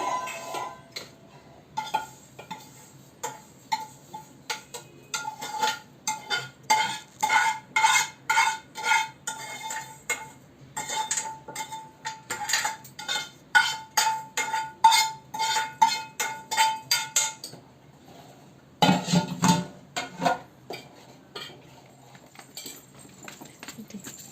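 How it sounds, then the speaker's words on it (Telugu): Vermicelli goes into a pot and is stirred, giving bursts of quick metallic scraping and clinking from a utensil against the pot, rhythmic and close, with short pauses between rounds. "ఇప్పుడైతే సేమియా దీంట్లో వేసేస్తున్నాను."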